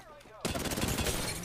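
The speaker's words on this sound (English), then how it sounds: "I'm getting shot" Rapid bursts of gunfire strike the player in a shooter video game, starting abruptly after a short quiet moment and continuing as a dense, loud, crackling barrage to the end.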